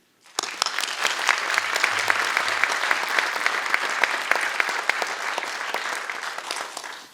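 Applause breaks out at a student success gala, a sudden dense round of clapping from a large crowd that holds steady for several seconds before tapering off.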